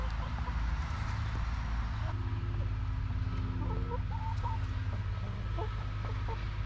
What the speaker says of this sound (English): Eight happy chickens.